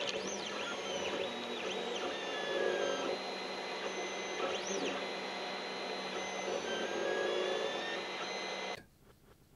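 An Alfawise U30 3D printer printing, a steady close whirring of stepper motors with rising and falling melodic whines and hum, then stopping abruptly near the end.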